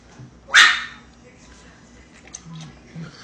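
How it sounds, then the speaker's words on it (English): A dog gives one sharp, loud bark nearby during a meal, followed by quieter muffled sounds and low background voices. "The dog always barks when we're eating."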